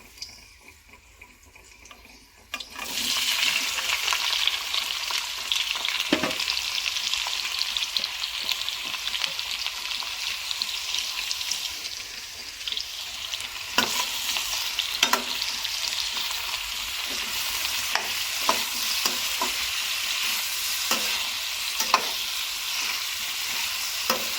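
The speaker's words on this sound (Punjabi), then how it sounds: "ਹੁਣ ਆਪਾਂ ਨੂੰ ਲਾਵਾਂਗੇ ਤੜਕਾ" Chopped onions hiss and sizzle in hot oil for the tadka of a Punjabi bhindi sabji, with a quiet start, then steady loud frying from about three seconds on, broken by repeated scraping stirs of a spoon.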